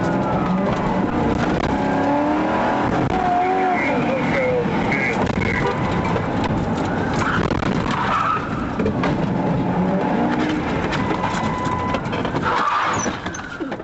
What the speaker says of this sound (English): He actually got in the driver's seat and drove away the police car.